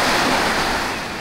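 Ocean surf washes onto Poipu Beach on Kauai, Hawaii, as a loud, broad, continuous hiss of breaking waves with some wind buffeting the microphone.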